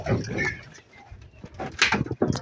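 Pigeons coo softly in short throaty bursts around a nest holding a chick, several low calls close by with brief pauses between them.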